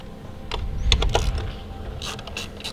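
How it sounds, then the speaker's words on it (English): A ratchet breaks loose 10 mm bolts on a Kia Forte during a spark plug change, making close, loud mechanical clicking and clunking in short bursts. "pull out these 10 mil bolts. Like I said, just go ahead. That, I break them all loose first."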